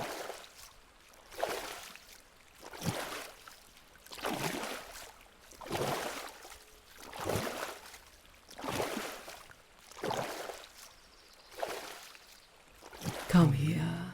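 Slow, rhythmic water splashing from someone swimming in a deep, clear lake: about eight soft, evenly spaced strokes, close and gentle, with quiet pauses between them.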